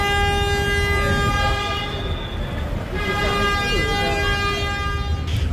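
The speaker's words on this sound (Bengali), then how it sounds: "এখন আবার কিসের হর্ন দিতেছে" A loud, sustained ship horn on the Manami passenger launch, Barishal to Dhaka, blares steadily, dips briefly, then sounds again, with a constant low engine rumble underneath.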